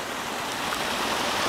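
A hot spring waterfall at San Antonio Hot Springs pours steadily, giving a broad, even rush of falling water with no voices.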